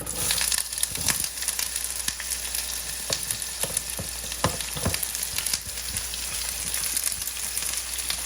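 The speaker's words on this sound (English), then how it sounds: "I'm gonna go ahead and put my onions in here" Onions sizzling in a skillet on fairly high heat, a dense continuous frying crackle with scattered pops and stirring clicks up close, no voices.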